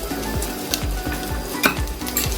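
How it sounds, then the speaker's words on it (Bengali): Pointed gourd and shrimp mash for potol bhorta, with lemon juice and mustard oil, sizzles in a hot pan while a spoon scrapes and stirs it in steady, repeated strokes, close and fairly loud. "এটা আবার একটু ভালো করে নাড়াচাড়া করে নিয়ে এটাকে আমি নামিয়ে নেব"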